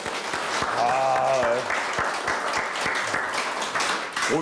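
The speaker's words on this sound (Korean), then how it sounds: "박수가 한번 끊기지를 않네요" A studio audience at a televised dental-health lecture applauds steadily and densely throughout, with a brief voice rising over the clapping near the start.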